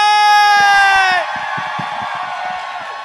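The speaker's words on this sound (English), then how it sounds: "let's keep that applause going for Lawrence Chaney" A live drag show audience at Roscoe's for a RuPaul's Drag Race Season 15 viewing screams and whoops loudly in a high, sustained cheer, then breaks into scattered clapping and shouting.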